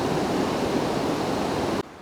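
A river running high over a submerged gravel bar gives a steady, loud, rushing wash of water close by, which cuts off abruptly near the end.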